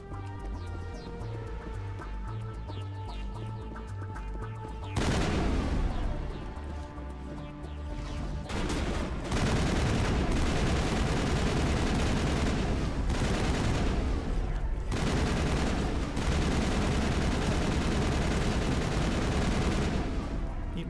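A powerful gun firing in the Mass Effect video game, starting after a quiet stretch of background music, then long, loud, continuous volleys of rapid shots broken by brief pauses.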